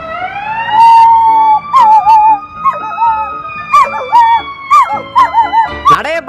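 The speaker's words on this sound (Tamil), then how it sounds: "ரோட்ல ஒரு ஆம்புலன்ஸ் போனால் போதுமே உடனே சங்கீத சுரத்த ஆரம்பிச்சிடுறான்." An ambulance siren wails past on a road while a dog howls along in rising, wavering cries. Both are loud and close, with the siren's steady tone underneath.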